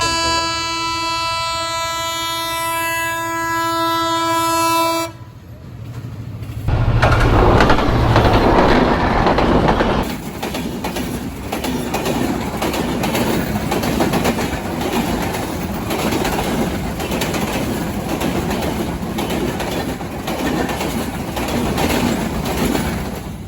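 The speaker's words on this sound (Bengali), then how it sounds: "এই যে হঠাৎ করে ট্রেন আসছে" A loud train horn blares, then a train roars past close by at full speed on the Holholiya rail bridge, wheels clattering steadily on the rails for many seconds.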